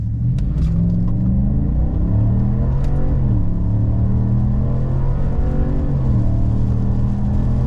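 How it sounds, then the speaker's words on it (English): A GMC Sierra AT4 pickup's V8 roars hard through a boosted launch in the rain at altitude, its deep rumble climbing in pitch with each gear, dropping at the shifts, and staying loud and continuous. "What a deep-throated sounding engine."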